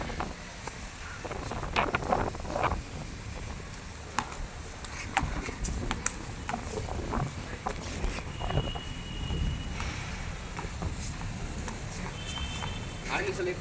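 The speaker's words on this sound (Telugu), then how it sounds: "పైన మంచి గాలి కూడా వస్తుంది" Steady wind buffets the microphone with a low rumble on a rooftop under gathering clouds, broken by scattered clicks and brief rustles throughout.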